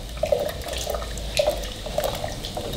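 Ground roasted peanuts are stirred into hot milk in a pot, giving soft, wet, repeated swishing strokes at an even rhythm, close and fairly quiet, with no talk.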